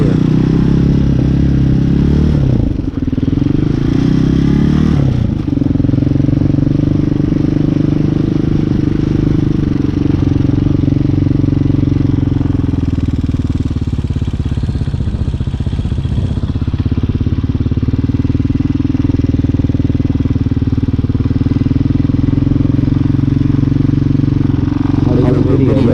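A Hawk 250cc street-legal dirt bike rides along with a steady mid-pitched engine drone, a brief rev change near the start, wind buffeting and clatter throughout, with talk over the top.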